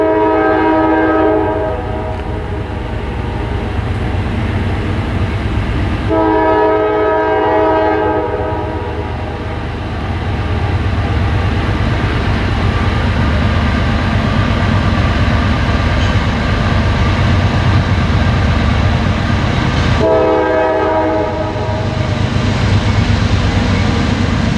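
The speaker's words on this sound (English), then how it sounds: "CSX N787, the coal train that's coming right now, has a surprise leader at the front" The CSX N787 coal train thunders past with a loud, rich horn blowing in long blasts over a heavy, constant rumble of rolling cars, very close.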